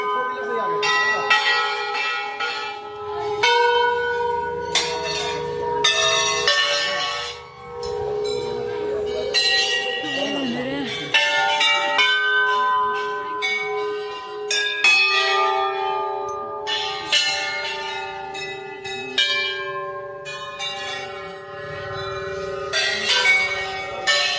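Temple bells in Uttarakhand ring continuously and loudly, many metallic strikes overlapping in a dense, clanging wash with a brief dip partway through, under a faint hum of people.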